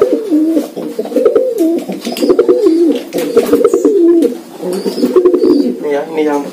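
Pigeons in a box cage coo in loud, close, warbling rolls that repeat throughout, mixed with soft rustles and occasional chirps.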